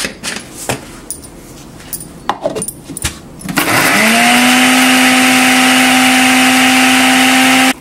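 A kitchen mixer grinder starts up and grinds medu vada batter with cumin seeds, a loud steady high-pitched whirring motor that follows a few seconds of clinks and handling sounds.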